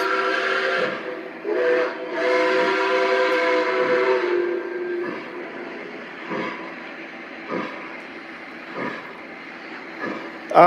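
A model steam locomotive three-engine lash-up moving backwards gives a long, loud whistle-like tone that holds for several seconds, then settles into quieter running noise broken by short periodic puffs and clicks.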